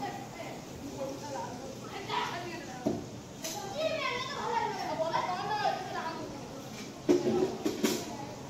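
Children play outdoors, their distant high voices calling and chattering in scattered bursts, with a few sharper shouts and knocks near the end.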